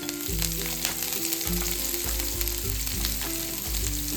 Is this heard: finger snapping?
no